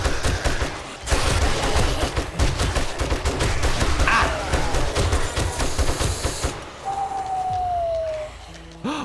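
Rapid bursts of automatic gunfire in the 7 Days to Die survival game, loud and close, rattling in dense volleys for several seconds, then cutting out to a fading whine and a lone whistle-like tone.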